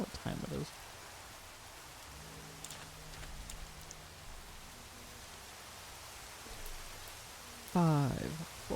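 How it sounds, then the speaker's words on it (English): Rain falls in a modded survival multiplayer video game, a soft, even hiss running through the whole stretch, with a person's voice breaking in briefly at the start and end. "Oh my god, of course it's raining."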